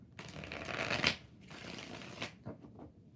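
Tarot cards being shuffled by hand, two or three close riffling bursts with short pauses between them and no talk.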